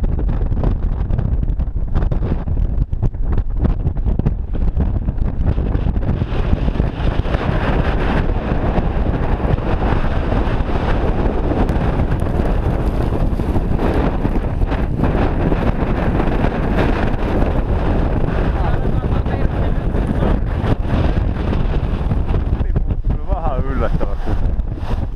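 Strong wind blows across a ski slope at Pyhä, Finland, buffeting the microphone in loud continuous gusts while a person talks underneath.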